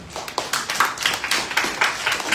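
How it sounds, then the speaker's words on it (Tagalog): Church congregation clapping in praise during a sermon on prayer, a steady run of sharp hand claps at moderate distance filling the short stretch, with no talk over them. "Palakpakan natin ang Panginoon."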